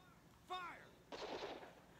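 A short called-out voice comes first, then a single loud gunshot in the 1-2-Switch quick-draw duel game on Nintendo Switch, with a bursting report that trails off over about a second.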